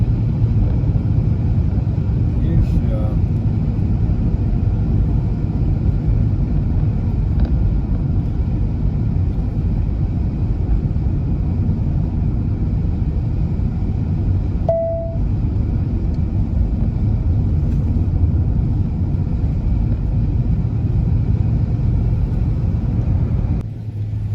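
A car drives steadily along forest roads, a constant broad road and engine rumble running unbroken from start to finish with no voices.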